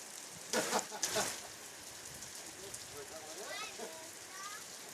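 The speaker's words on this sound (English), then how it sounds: "I don't know if you people at home can actually hear the rain coming down." Heavy rain at a surf contest gives a steady hiss of downpour that runs throughout, with a few louder bursts of noise and voices talking over it.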